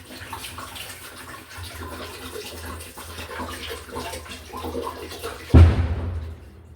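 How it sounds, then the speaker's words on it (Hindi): Water poured into a cooking pot of cut potatoes in a home kitchen: a soft running splash under background noise, then a louder gush that fades out near the end. "और अब मैं इसमें डाल दूँगी पानी।"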